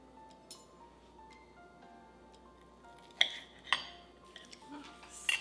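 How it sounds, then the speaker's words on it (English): Knife and fork work at an A5 Japanese Wagyu ribeye steak with mushroom sauce on a plate, giving a few soft scrapes and then several sharp, light clinks of cutlery on china, close and quiet. "Steak just cuts like butter"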